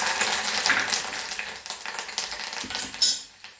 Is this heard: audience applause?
no